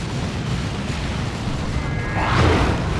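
Lascannon turret fire strikes Terminators in the Dawn of War 2 strategy game, heard as loud, dense booming blasts with a swelling impact rumble near the end.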